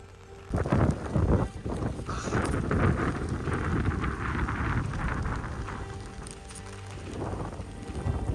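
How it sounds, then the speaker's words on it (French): Strong storm gusts of over 80 km/h roar and buffet steadily outdoors, with rain mixed in and a rough, rumbling wind rush against the microphone. "D'un coup, le vent s'est levé, on avait des rafales à plus de 80 km/h"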